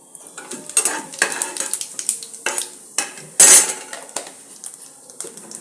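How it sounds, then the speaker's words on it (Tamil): Cumin seeds tempering in hot oil in a home kitchen pan while onions are readied for vegetable pulao, heard as clinking metal utensils and scraping stirs over a faint sizzle, in irregular close bursts. "சீரகம் தாளிச்சிருக்கேன்"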